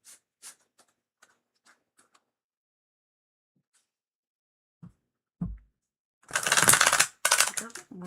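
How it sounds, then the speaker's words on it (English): Tarot cards are shuffled in a quick burst of dense riffling and slapping near the end, after a stretch of faint ticks and near silence. "More shuffling."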